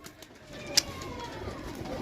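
A pigeon coos softly nearby in Jhelum, Pakistan, against a low background hum, with one brief sharp chirp partway through.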